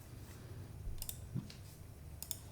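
Soft computer mouse clicks while saving an ESP controller configuration, two or three faint close clicks over a low steady hum.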